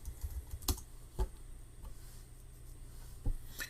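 Keys clack on a computer keyboard in a few sparse, separated strokes over a quiet room hum, close and fairly soft, with no talking.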